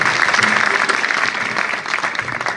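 An audience at a Hindi poetry recital about farmers claps loudly and steadily, a dense burst of applause filling the whole moment without pause.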